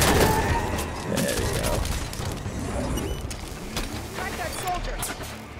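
Rapid gunfire from a weapon in Halo 5: Guardians, a dense fusillade of shots with booming impacts running through the whole stretch, loud and close, with mechanical clatter mixed in.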